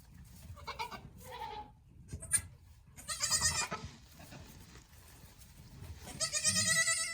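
Several Nigerian dwarf goats bleat in bursts, nearby and fairly loud, with gaps of quieter rustling between the calls.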